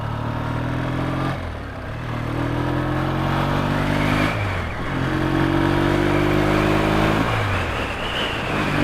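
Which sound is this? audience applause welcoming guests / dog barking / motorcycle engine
motorcycle engine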